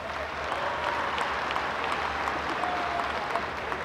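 A crowd at a Democratic convention claps steadily for a Sparks Justice of the Peace candidate, a dense, sustained applause that fills the room.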